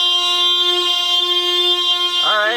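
A car horn blares as one long, steady, loud tone close by, then bends and wavers at the very end.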